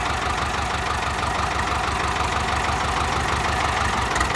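A tractor with a front loader idles steadily nearby, a low rhythmic diesel chugging that holds constant throughout.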